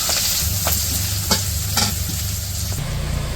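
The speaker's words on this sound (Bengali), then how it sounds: "এই যে কড়াইয়ে তেল দিয়া পেঁয়াজ কাঁচামরিচ দিয়ে দিচ্ছে।" Onions and green chilies fry in oil in a wok for a Bengali shapla recipe, giving a steady close sizzle with a few sharp stirring scrapes over a low background hum.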